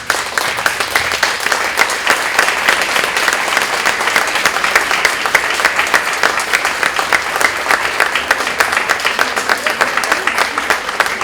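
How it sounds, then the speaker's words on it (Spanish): An audience bursts into sustained, dense applause, a steady wash of many hands clapping together for the whole stretch, loud and even with no break. "un aplauso"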